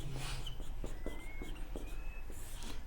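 Chalk or marker writes on a board during a Class 10 trigonometry lecture on the Pythagorean theorem, producing a series of short scratchy strokes in quick rhythm, close and moderately loud.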